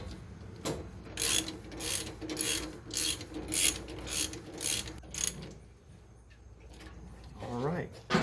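A ratchet wrench clicks in quick repeated strokes as a 17mm nut is tightened onto a motorcycle swing arm bolt, rhythmic bursts of ratcheting that pause, with someone talking nearby.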